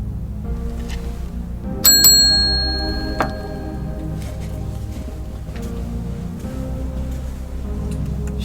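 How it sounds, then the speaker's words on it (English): A bright bell rings twice to summon a butler, sharp and close, with short metallic rings fading over a low steady hum. "You heard the bell?"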